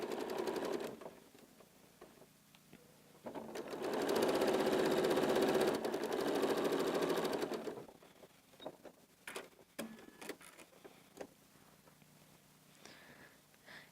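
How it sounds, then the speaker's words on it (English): A Janome sewing machine stitches a placemat in one loud, steady whirring run of several seconds, followed by quieter clicks and handling noises from the fabric and machine. "And start sewing, remembering side of your foot to your side of your material."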